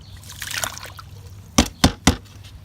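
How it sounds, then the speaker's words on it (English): Oxalic acid is poured into water in a container, giving a short, soft trickle followed by three sharp knocks close by, with no talking. "Alright, then you put oxalic acid in."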